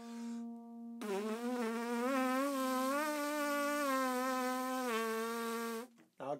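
A trumpet mouthpiece buzzed by the lips over a steady low C drone. The drone sounds alone for about a second, then a sustained, slightly wavering buzz rides on top of it for roughly five seconds before stopping.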